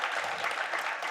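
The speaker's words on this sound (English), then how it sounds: "A round of applause as well." An audience claps at a gender debate evening in Geneva, a short burst of dense applause at moderate loudness that holds steady for about a second.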